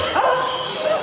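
At a safari bird show, a trained bird mimics a dog with a quick run of barking yelps, close and loud over the background noise of the show.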